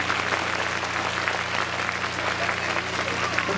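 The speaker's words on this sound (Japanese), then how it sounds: "皆さん拍手をお願いします。" Steady applause from a crowd, many hands clapping continuously at an even level throughout, at a Chunichi Dragons baseball players' talk show.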